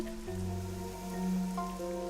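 Rain falls steadily in the video game Master Detective Archives: Rain Code, a soft, even patter running under sustained tonal background music at low volume.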